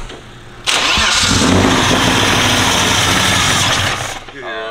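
A BMW E36 engine running on one dead cylinder cranks and fires, then roars loud and steady, close up, for about three and a half seconds before the noise drops away.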